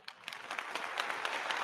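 An applause sound effect played during a coder interview show, a faint, brief round of clapping that swells from quiet to a steady patter.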